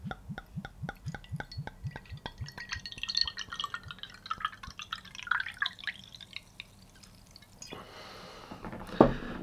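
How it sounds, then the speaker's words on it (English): Homebrew apple and pear cider fizzes with carbonation, a quiet, close run of rapid ticking drips and tiny bubble pops, ending with a brief louder splash or clink. "Now, listen to this. That's a good sign. Carbonation."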